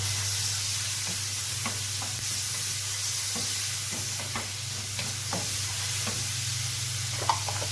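Tomatoes frying in a pan with a spoonful of vinegar, a steady broadband sizzle throughout, punctuated by scattered soft stirring scrapes and one sharp clink near the end; no talking.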